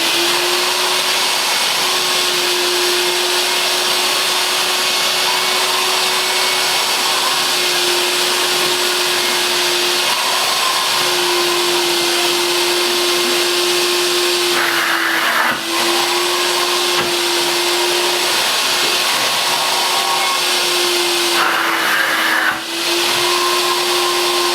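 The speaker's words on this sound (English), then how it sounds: "So first I'll turn the motor up, and then the solution isn't flowing anymore," A Vax 2100 multifunction carpet washer vacuum runs on high suction, a loud, steady motor whine with a constant tone, briefly shifting in pitch twice as the nozzle moves over carpet.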